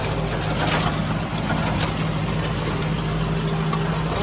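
Tractor with a rotavator attached running steadily nearby, a continuous low engine drone with a constant hum and some higher mechanical noise, no speech over it.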